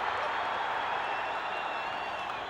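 A crowd at a hockey game roars in a steady, unbroken wash of cheering during a fight on the ice, with a voice faintly audible beneath the noise.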